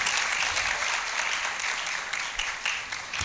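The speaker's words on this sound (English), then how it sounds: "Let's applaud Ernest." Steady audience applause fills a university law faculty's twelfth roll call ceremony, a dense, continuous patter of many hands clapping for a graduate whose name has just been called.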